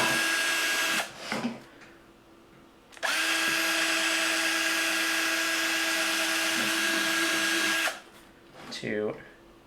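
Power drill cutting mounting holes for a flight computer bracket, a short whir followed by a long steady drilling run of about five seconds, close and loud, with a voice briefly heard in the pauses.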